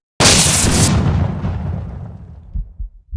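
A single loud shotgun blast from the Roblox version of Buckshot Roulette goes off close and hard, then its rumbling boom decays over about two seconds, with a couple of soft thuds trailing at the end.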